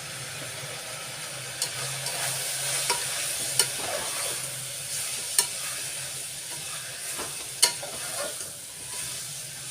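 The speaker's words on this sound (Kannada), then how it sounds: "ಎರಡು ಚಮಚ ವಾಂಗಿಭಾತ್ ಪುಡಿ ಹಾಗೂ ಒಂದು ಚಮಚ ತಿಳಿ ಪುಡಿ ಪುಡಿಯನ್ನು ಇದಕ್ಕೆ ಸೇರಿಸ್ಕೊತಾ ಇದ್ದೀನಿ" Vangibath spice powder and sesame powder are stirred into dill greens frying in a pan, a steady close sizzle with occasional sharp spatula clicks against the pan.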